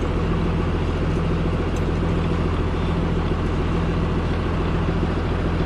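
A yard truck with a 5.9 Cummins 12-valve diesel drives along in first gear, its engine rumbling loud and steady with a deep, even drone that never lets up, and nobody talks over it.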